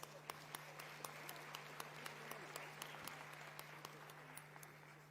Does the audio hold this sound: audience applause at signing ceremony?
yes